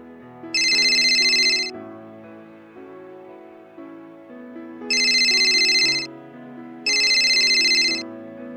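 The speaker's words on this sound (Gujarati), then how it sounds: "હું હમણાં જ વિપુલને ફોન કરું." A phone ringtone plays three times with pauses between, each burst a bright chiming melody over a steady lower backing tune, loud and close, and the call is never picked up.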